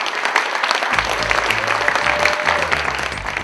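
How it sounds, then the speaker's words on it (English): A weekend event's crowd claps together in a dense, continuous round of applause, with a low rumbling hum and murmur underneath from the start of the first second onward. "give yourselves a round of applause for what you've already accomplished this weekend"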